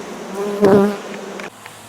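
Carpathian honey bees droning steadily in a full twelve-frame hive, a close, continuous buzz that swells briefly mid-clip and then drops to a quieter hum.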